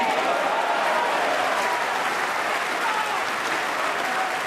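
A snooker crowd at the 2012 Masters quarter-final in London applauds a long pot, steady loud clapping filling the whole stretch, with faint commentary underneath.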